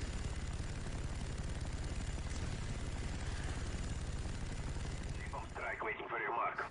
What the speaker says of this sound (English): Cinematics, nice flyby shot of the Huey.